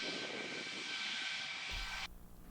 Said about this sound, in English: I watched a few planes take off and land right next to me